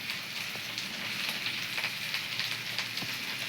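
Olives simmer in salted water in a saucepan for a pickle, making a quiet, continuous bubbling hiss with faint soft pops, steady and unbroken, with no voices.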